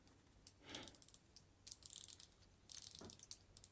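A Seiko SKX007 dive watch's 120-click bezel is turned by hand, giving faint, close runs of rapid small ratcheting clicks in several short bursts.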